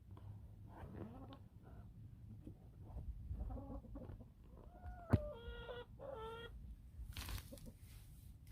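Barred Rock chickens cluck softly at close range, giving short repeated clucks and a few sharper calls over a faint, low background.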